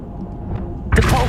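Descendo spell cast in Hogwarts Legacy: a quiet low rumble gives way to a sudden heavy thud with a bright crackling burst right at the end.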